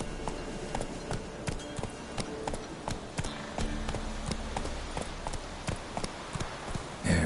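Roach, the horse in The Witcher 3, gallops steadily with quick, rhythmic hoofbeats, clear and close, over a faint ambient backdrop for about seven seconds.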